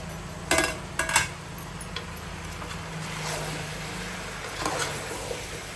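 A spoon stirs ginger garlic paste into gumadikaya curry in a pot, giving a few sharp metallic clinks early on, then softer scraping over a steady low hum.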